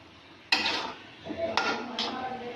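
Spaghetti and vegetables tossed in a pan for Singaporean rice, with a few sharp clanks of a utensil against the metal and scraping stirs between them, close and moderately loud.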